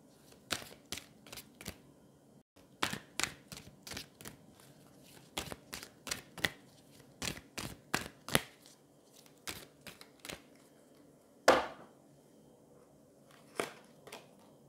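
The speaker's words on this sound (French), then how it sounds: "Allez, on va prendre une carte du Queen of the Moon." Oracle cards from a Queen of the Moon deck are shuffled and drawn in quick bursts of crisp riffling slaps. The bursts come in uneven clusters over a quiet room, ending with a sharper snap.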